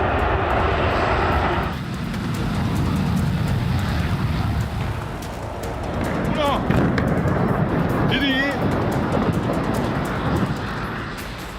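Military fighter jets on an attack run roar loudly and continuously, a dense engine rumble with swelling passes and a few thuds mixed in.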